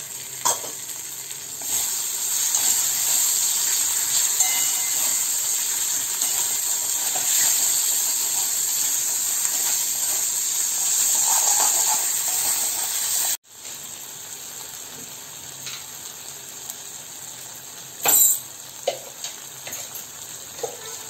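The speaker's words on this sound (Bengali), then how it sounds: "আর এই ছোট চামচে 2 চামচ ঘি দিয়ে দিলাম" Two spoonfuls of ghee sizzle and hiss steadily in a hot pan while fish muitha cooks, with light stirring scrapes throughout; after a brief cut the frying continues a little softer, with a couple of sharper clinks.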